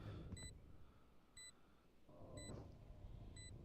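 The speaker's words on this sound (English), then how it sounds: "Oh, that beeping. It's really building that tension." Spike beeping in the Valorant video game, four sharp, bright electronic beeps spaced about a second apart over a low, muffled rumble of background game noise.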